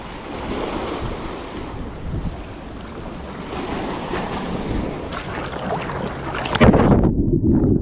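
Sea waves washing among the rocks at Anadolu Kavağı on the Bosphorus, a steady broadband surf roar with wind buffeting the microphone, growing louder and closer near the end.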